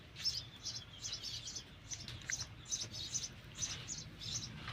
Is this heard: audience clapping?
no